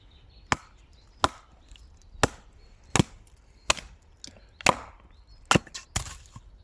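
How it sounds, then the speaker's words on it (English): Batoning wood with an Elite Force EF 710 knife: eight sharp, loud wooden chops about a second apart, each a cracking split with faint rustles between, no talk. "we're just gonna start actually testing this knife with some batoning"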